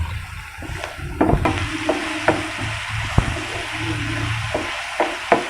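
Onions, two large ones, frying in a pan for masala idli, with a steady sizzle under scattered clinks and scrapes of stirring, close and moderately loud, no talk.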